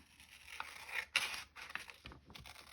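Scissors cutting paper while making a folded journal pocket: a few quiet, close snips and rasping cuts in short bursts, with a soft rustle of paper between them.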